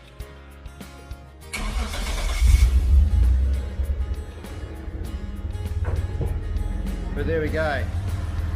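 A repaired Mitsubishi car engine cranks, catches and settles into a steady, fairly loud running note, with someone talking over it near the start and end.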